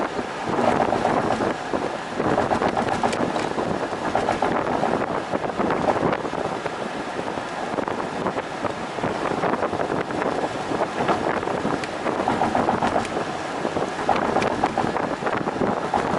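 Wind buffets the microphone in an open Porsche 911 while driving, a loud continuous roar with fluctuating gusts and no talking.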